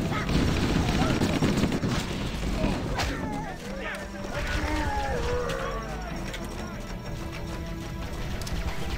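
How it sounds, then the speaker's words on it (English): Assault rifle fire in Halo: Combat Evolved, bursts of gunshots crackling through a busy battle mix with other game effects and chatter. "let's take these guys out with the assault rifle"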